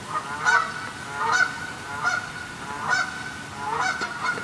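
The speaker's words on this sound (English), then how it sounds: "It's like every time I'm about to record, these two geese, they go at it." Two geese honk repeatedly in loud, nasal bursts spaced about a second apart, fairly close by, with no talking over them.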